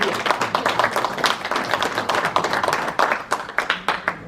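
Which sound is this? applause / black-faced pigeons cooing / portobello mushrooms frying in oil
applause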